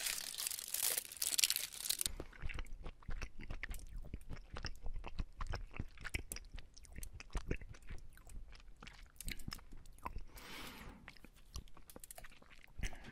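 Close, crisp chewing and crunching of a Lindt chocolate bar with hazelnuts, with crinkling wrapper at first, then steady bites and mastication sounds near the microphone, quiet between chews.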